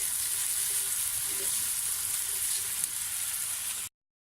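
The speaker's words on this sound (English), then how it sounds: "let them saute until they're nice and translucent" Steady, soft sizzling of onions frying in a pot, a continuous hiss that runs evenly then cuts off abruptly.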